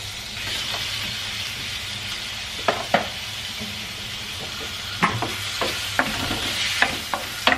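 Chicken sizzling and frying in a hot pan, with a steady crackle underneath and several sharp clinks and scrapes from stirring.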